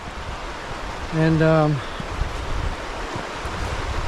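River running beside a hiking trail in a mountain gorge in Kosciuszko National Park, a steady broadband rush of flowing water throughout, with a brief voice speaking partway through.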